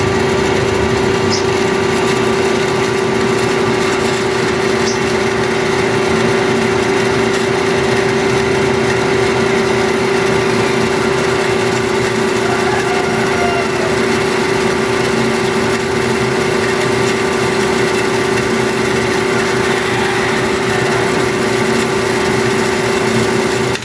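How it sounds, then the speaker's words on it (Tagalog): Wall-mounted pressurized water pump with automatic pump control running, a constant steady motor drone with a strong even tone throughout and no voices. "So palong na atong water pump"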